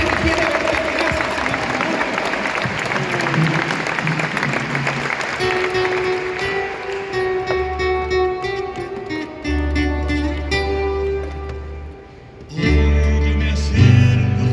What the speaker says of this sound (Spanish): Fuerte que se escuche el aplauso para el Señor